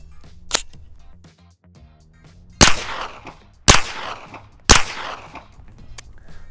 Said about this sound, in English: Now we're gonna be shooting some supersonic ammo through this Air Precision EPC-9.